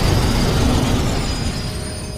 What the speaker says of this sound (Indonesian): Di kejauhan ada kereta api melaju dengan cepat dan menabrak gerbong yang